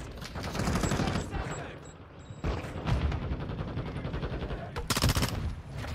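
Loud automatic gunfire in a video game as a player fires at an aircraft overhead, a rapid machine-gun rattle in long, dense bursts with brief pauses and a sharp final volley.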